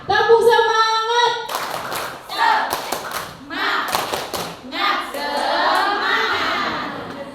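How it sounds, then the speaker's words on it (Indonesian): A group in a teacher-training session claps out a counted chant, sharp clusters of claps in short bursts separated by brief pauses, with voices chanting and calling between the beats. "Tepuk 1, tepuk 2, tepuk 3, tepuk semangat."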